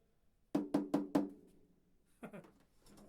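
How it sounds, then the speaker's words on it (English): Four quick metallic taps on a thin galvanized metal drum shell, ringing briefly, then a softer pair of hits; close and fairly quiet. "So what you're hearing there, that's all the heads."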